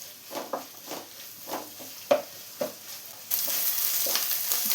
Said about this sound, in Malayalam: ഇനി ഇതൊന്ന് നന്നായി വഴറ്റിയെടുക്കാം